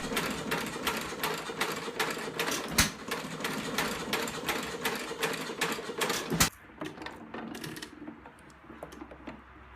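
A vintage hopper-cooled stationary farm engine with throttle governor and Wico magneto ignition runs at low speed, a rapid, even train of close mechanical beats that abruptly drops to a quieter, sparser run near the end.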